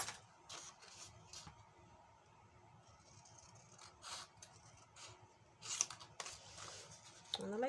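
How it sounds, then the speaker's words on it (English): Scissors with soft rubber grips snipping paper while lining a paper gift box, a few crisp, close cuts and rustles spread over quiet moments, with a sharper burst of cutting near the end. "The beautiful sound when you're cutting paper."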